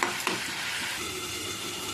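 Beans and flat beans for masala dhokar are stirred in a hot pan, with a steady close sizzle and a couple of spoon scrapes at the start.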